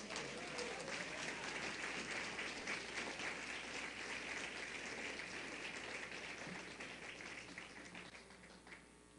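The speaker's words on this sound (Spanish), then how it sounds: "Dale fuerte ese aplauso al Señor." A church congregation applauds in a long, steady wash of many hands clapping, fairly distant and reverberant, the sound holding even before gradually thinning toward the end.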